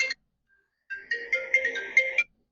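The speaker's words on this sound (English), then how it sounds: "I think that's Broski calling right now." Phone ringtone from an incoming call, a short blip followed after a pause by a melodic electronic ring lasting over a second, moderately loud and alone without speech.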